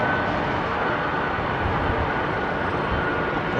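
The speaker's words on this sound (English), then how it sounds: "we've still got these old engines, these CF6 and Pratt & Whitney engines" An older jet airliner with CF6 and Pratt & Whitney engines departs Heathrow's runway 27R, giving a loud, steady broadband engine roar with deep rumble that holds constant throughout, with no speech.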